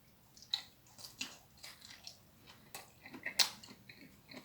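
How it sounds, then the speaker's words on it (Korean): Close, quiet crunching and chewing of boiled thorny tree shoots eaten with boiled squid, in soft irregular bites, with no talk. "삶은 상태에서 오징어하고 같이 곁들여서 이렇게 곁들여서 한번 먹어보도록 하겠습니다"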